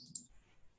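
A single sharp computer mouse click sounds close and quiet during software work on a report table, followed by faint room noise and no talking.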